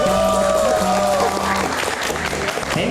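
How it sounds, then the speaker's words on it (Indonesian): Studio audience applauds Dono, Kasino and Indro of Warkop DKI on a live Indonesian talk show, a loud steady burst of clapping with a crowd murmur and some voices and music mixed in throughout. "Kita berikan tepuk tangan untuk Dono Kasino Indro."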